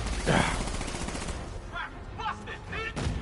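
Gunfire from militia in Batman: Arkham Knight, with a loud burst early on followed by scattered shots and game sounds.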